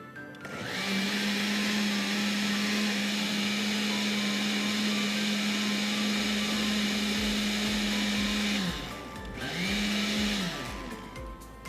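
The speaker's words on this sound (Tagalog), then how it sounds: "Okay, then i-blender lang po natin siya." A kitchen blender whirs loudly and steadily while blending fresh milk and a little salt for baterol at a Pampanga culinary event, then stops and gives a second short burst.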